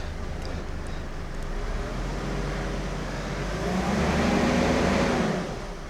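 A Mercedes 300CE engine runs while driving down a street, a steady car drone heard from inside that swells toward the end as it accelerates, with no talk.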